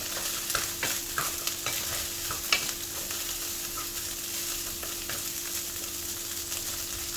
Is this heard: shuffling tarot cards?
no